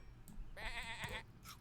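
A sheep bleats once in a long wavering call, fairly close and clear over a quiet background.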